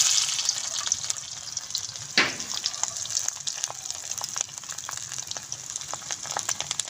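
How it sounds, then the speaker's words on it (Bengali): Coconut pieces fry in hot mustard oil in a kadai, a steady hiss and sizzle with a sharper crackling burst about two seconds in as the pieces hit the oil, then settling into a continuous bubbling fry. "নারকেল ফুল ভাজার জন্য কড়াইতে দিয়ে দেবো আমি সরষের তেল।"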